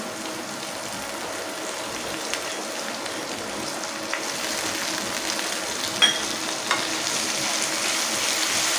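Soaked, drained moong dal frying in a pan, with a steady hiss and crackle under faint occasional stirring clicks, continuous and close, no talk.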